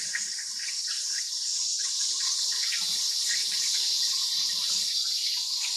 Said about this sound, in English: And once again, I'm washing my hands.